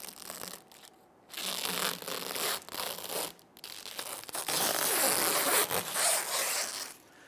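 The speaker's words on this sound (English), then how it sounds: "Now we can go ahead and start to peel off the protective film." Protective plastic film peeled off a new hood-mounted bug deflector for a 2011-2019 Ford Explorer, loud close ripping and crackling in drawn-out strips with short pauses, no talk.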